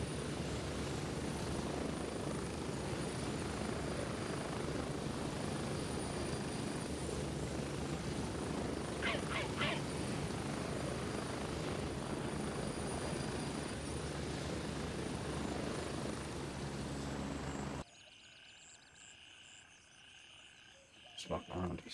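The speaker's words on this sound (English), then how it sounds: "the helicopter rides are very choppy" A helicopter ride in the military shooter Grey Zone Warfare gives a steady, loud rotor and engine drone that holds for most of the stretch, then drops off abruptly near the end to a quieter background.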